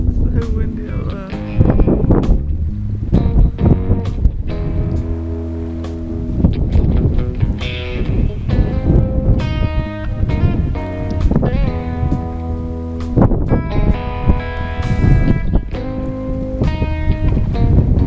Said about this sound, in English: So windy out there.